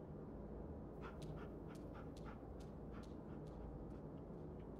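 A dog in The Walking Dead video game pants softly in quick, rhythmic breaths, faint and steady over a low background hum, with a few light whimper-like catches.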